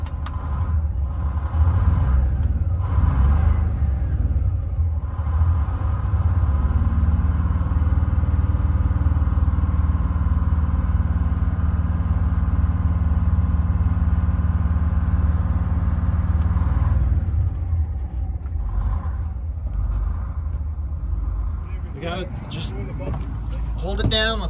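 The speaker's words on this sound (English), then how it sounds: "Engine's running." The engine of an old bus idles during a rescue in Minnesota, a steady low rumble that carries on throughout while people talk nearby, with some mechanical clatter toward the end.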